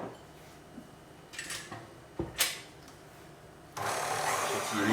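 A few clatters and knocks come first as 50 centilitres of whole liquid cream is readied for whipping, then an electric mixer starts with a loud, steady whirring drone that holds to the end.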